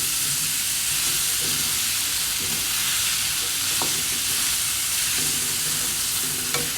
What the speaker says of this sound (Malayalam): ഇനി നന്നായിട്ടൊന്ന് ഇളക്കും. മസാല എല്ലാവരുടെയും ഒന്ന് പിടിക്കട്ടെ.